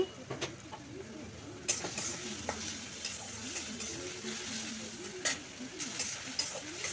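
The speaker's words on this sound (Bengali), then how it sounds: "পেঁয়াজগুলো বেশ ভালো করে ভেজে নেব পেঁয়াজটা বেশ কিছুক্ষণ ভাজতে দিচ্ছি" Onions fry in a pan with a steady sizzle, stirred now and then with sharp scraping clicks, and birds coo faintly in the background.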